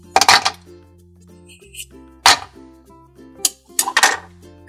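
Chunks of fruit dropped into a kitchen blender jar for a smoothie, landing as a few sharp clinking, clattering hits spread out with quiet gaps between them and no talk over them.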